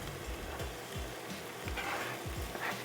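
Canned Libby's corned beef frying and being stirred in a pan, a steady close sizzle broken by scraping and stirring strokes, with no voices.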